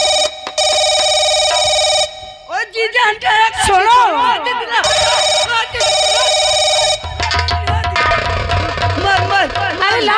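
A telephone rings in repeated bursts of electronic tones, loud and close, while people talk and shout over it between rings.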